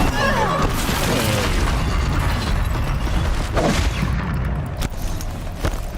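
A Ravager machine firing its gun in Horizon Zero Dawn: rapid mechanical bursts and booming impacts with clanking, ratcheting metal, loud and dense, tapering near the end.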